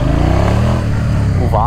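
A motorcycle accelerates while circling an oval, pushing the tyre's grip as the lean angle grows; a steady, loud engine drone rises in pitch near the end, with someone talking over it throughout.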